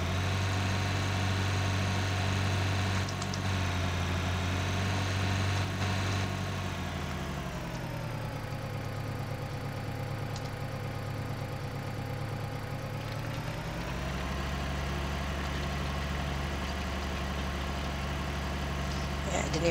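A farm vehicle's engine in Farming Simulator 2013, a steady low droning hum running throughout that drops in pitch midway and then climbs back, close and continuous with no talking.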